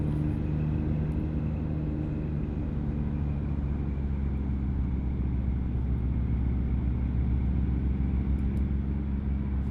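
Truck engine in American Truck Simulator, steady low rumble and drone while cruising along a riverside road in Missouri, loud and continuous with no break.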